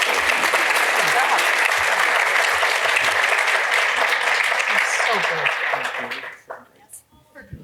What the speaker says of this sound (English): Please join me in giving our panelists another round of applause